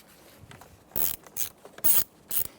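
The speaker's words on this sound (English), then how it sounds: "So it's an 8mm socket for both these bolts." An 8mm socket on a ratchet works the steering wheel bolts of a 2002-2005 Ford Explorer, making four short, sharp bursts of clicking and scraping close by, separated by quiet gaps.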